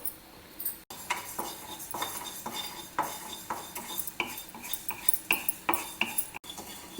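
Rice and methi (fenugreek) seeds dry roasting in a pan over a low flame, with a spoon scraping and clinking against the metal in a steady rhythm of repeated strokes, close and moderately loud, with no voices.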